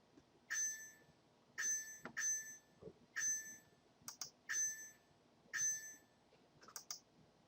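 Repeated bright electronic bell tones ring in a one, one, two pattern, interspersed with soft clicks, in a quiet setting.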